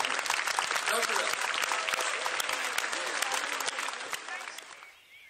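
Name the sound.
applause for the runners from Oude Pekela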